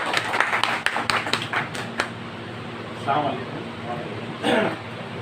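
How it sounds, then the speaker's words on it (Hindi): An audience claps in welcome for a guest at a gathering, a burst of scattered, sharp claps that thins out and fades within a couple of seconds, followed by quieter room noise with some talk. "तालियाँ बजा करके इस्तेक़बाल करें।"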